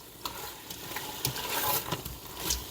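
A spoon stirs beef vegetable soup with dissolving beef bouillon in an Instant Pot on saute, giving soft scraping and sloshing strokes over a faint sizzle, quiet and close, with no talking.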